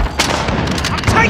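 Gunfire in Call of Duty Modern Warfare rattles out as a quick cluster of loud, sharp shots and cracks over a dense battle backdrop, lasting only about a second.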